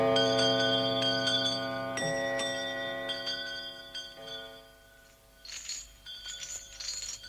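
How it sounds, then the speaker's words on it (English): Old house bells ring out together in a clattering chorus of overlapping metallic tones that fade, then ring again in bright, jangling bursts near the end. "every bell in the house rang loudly for about a minute"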